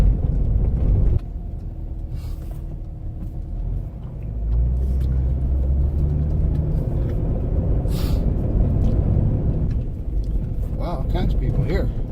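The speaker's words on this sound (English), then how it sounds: "car." A car on a forest road rumbles past loud and close, its low engine drone swelling and fading over several seconds while people talk nearby.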